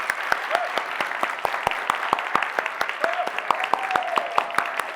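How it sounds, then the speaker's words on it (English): A conference audience applauds with steady, crisp clapping throughout, while a voice murmurs briefly beneath it. "Applause."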